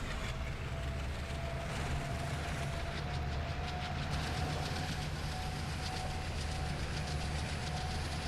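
An oil train in the Trainz 2019 simulator rolls steadily on rails at slow speed, with a constant low engine drone and faint rhythmic wheel clatter, quiet and unbroken.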